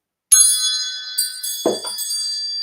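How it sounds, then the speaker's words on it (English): Wind chimes struck once and left to ring, bright metallic tones sustaining clearly with a few soft re-strikes and a low knock partway through, close and alone. "let's call in spirit with a little bit of wind chime time."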